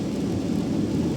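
Heavy rain pours on the Central Luzon Link Expressway, a dense, steady roar with low rumbling like thunder, loud and continuous throughout.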